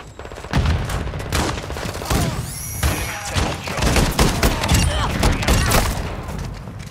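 Game gunfire crackles in rapid volleys with thumps and booms during a team shooter match, close and loud throughout, while players shout over the shooting.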